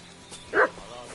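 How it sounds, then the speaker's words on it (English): A single dog bark rings out in the medieval Bohemian countryside of the video game Kingdom Come: Deliverance II, one short, sharp yelp at moderate distance against a quiet ambient background. "What's that dog making such a fuss about?"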